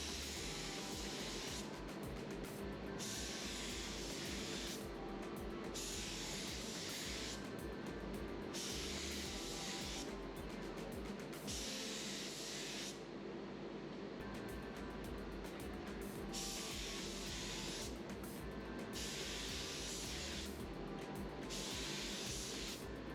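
Bursts of base coat from an A&I R150 mini spray gun with a 1mm fluid tip spraying car wheels in Dark Argent, a loud close hiss repeating in regular passes with brief gaps under a steady background drone.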